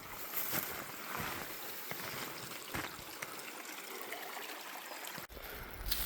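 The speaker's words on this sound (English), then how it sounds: "up there is where the ditch flows into the creek" Creek water flows and trickles at a rural property near where a ditch joins it, a faint steady gurgle heard alone with a few soft knocks.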